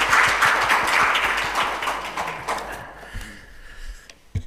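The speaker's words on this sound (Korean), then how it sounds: "계속해서 따뜻한 박수로 환영해 주세요." Applause from the audience at a 2020 teacher award ceremony welcomes a recipient to the stage, dense clapping that gradually thins and fades out over a few seconds, ending with a few scattered claps and light noises.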